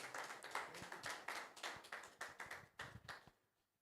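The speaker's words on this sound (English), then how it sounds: "Let's give him a very resounding round of applause." Sparse hands clapping at a morning science pitch event in Ghana, a handful of distinct claps in an uneven rhythm, fairly faint and close, fading out toward the end.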